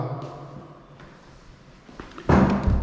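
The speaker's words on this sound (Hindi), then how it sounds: "अब ये वाला दरवाज़ा अगर हमने बंद कर दिया है" Door in a house being closed, heard as a single solid thud near the end after a stretch of quiet room sound with faint shuffling.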